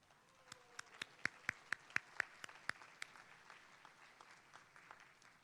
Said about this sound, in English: I really need you guys to applaud these people who stand up